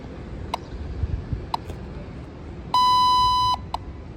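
A rally timing clock at a Great Race checkpoint gives three short beeps, then one long sustained tone and a final short beep, clear and fairly close over quiet room murmur.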